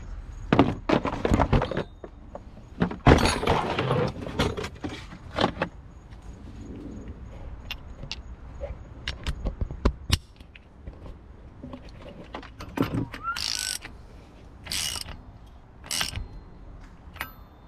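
A 19 mm wrench tightening an oil catch can fitting on a Nissan 350Z, heard as scattered metallic clicks, ratcheting and clunks with irregular loud bursts and quieter handling noise between, close by and without speech.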